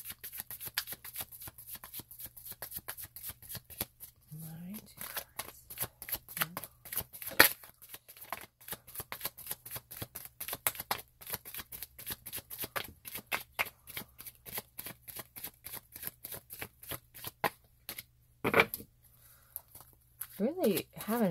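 Oracle cards are shuffled repeatedly in quick, crisp riffling bursts, close to the listener, with brief pauses between rounds.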